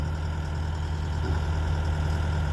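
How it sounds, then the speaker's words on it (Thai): A Sumitomo SH130-6 excavator with an Isuzu engine and a K7V hydraulic pump idles in a steady, even, mid-to-low hum that holds unchanged throughout. "ฟังเสียง K7V นี่ปั๊ม K7V นะครับสำหรับ 130รุ่น 6"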